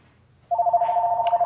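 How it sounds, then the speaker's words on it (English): An electronic telephone ring begins abruptly after a short quiet moment and continues as a loud, steady warbling tone, close and alone. "I got a phone call at the store, guys."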